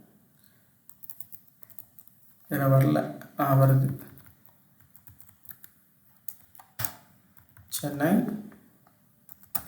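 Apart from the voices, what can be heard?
typing on a computer keyboard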